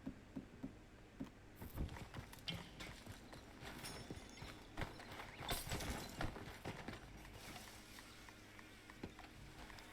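Horse hooves clip-clop in Red Dead Redemption, an uneven run of hoof strikes mixed with clatter and game ambience, fairly faint throughout with no one talking over it.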